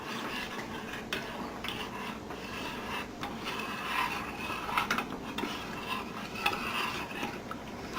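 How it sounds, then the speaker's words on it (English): A spoon stirs milky flour water in a cooking pot with soft, continuous scraping and swishing, faint and steady with occasional light clinks. "And now stir it just a little bit"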